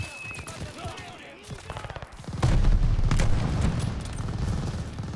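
Gunfire in the video game Call of Duty: Vanguard, in a Tobruk battle. A few sharp shots crack early on, then heavy, sustained booming fire rolls on loud and dense to the end.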